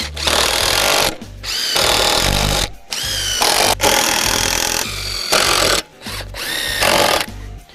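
A power drill drives screws into the brackets of a homemade bench press. It comes as loud, close bursts of whirring, about six in a row, with short pauses between them and no talking.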